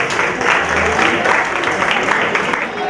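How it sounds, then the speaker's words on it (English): Guests at a bar mitzvah reception give a loud, dense round of applause, close and full, with some voices mixed into the clapping. "Give him a huge round of applause."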